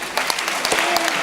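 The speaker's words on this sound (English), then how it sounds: "a round of applause for these guys" An audience at an entertainment law event claps loudly and steadily in a dense, close burst of applause with no voices over it.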